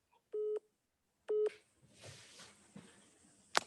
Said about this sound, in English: I had a phone call beeping in.